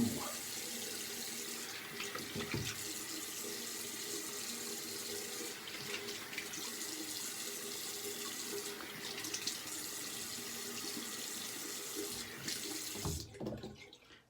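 Tap water runs steadily into a sink while soap is rinsed off, a continuous close hiss and splash with small shifts as hands move under the stream, cutting off at the very end.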